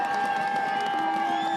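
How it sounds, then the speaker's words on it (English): A home crowd at a high school football game roars on third down, a steady loud wall of cheering and noise with sustained tonal whistles or horns throughout. "the home crowd turning up the noise on 3rd down and 4 from the 39"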